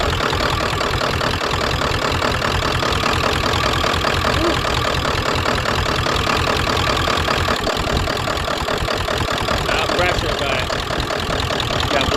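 A 1999 Ford F250 pickup with a 7.3 Powerstroke diesel engine runs with heavy blow-by, giving a loud, steady, close idling rumble with a rough knocking texture that continues unbroken throughout.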